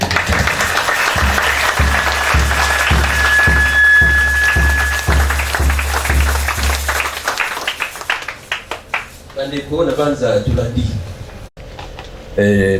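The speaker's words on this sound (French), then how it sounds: "Applaudissons pour les prophètes." A crowd at a religious seminar claps in a steady rhythm alongside music and voices for several seconds, then the clapping fades and a voice speaks loudly.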